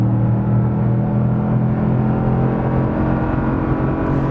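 A 2015 Toyota Tundra TRD Pro's 5.7-liter V8 with a custom exhaust rumbles loudly and steadily at close range, a low throaty idle with a strong harmonic drone throughout.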